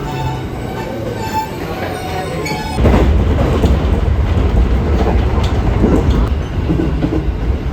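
Train running on rails in Japan: a quieter approach gives way to a sudden loud, close rush of rolling wheels with rhythmic clatter and rumble that continues steadily to the end, with no talking.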